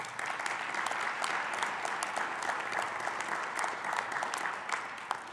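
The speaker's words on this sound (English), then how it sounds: "Give him a round of applause." Graduation ceremony audience at a community college applauding steadily, a dense wash of many hands clapping at an even, moderate level for the whole stretch without talk.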